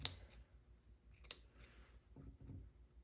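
Scissors snip through sewing fabric around a curved skirt pattern piece, giving faint, close crisp clicks and short cutting bursts spread through a quiet room.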